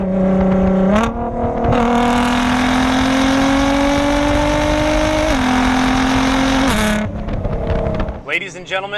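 A 2009 Nissan GT-R R35 tuned to about 600 wheel horsepower pulls hard after a double downshift from fifth to fourth, its engine note climbing steadily and loudly with a brief shift dip partway, then dropping off as a voice speaks at the end.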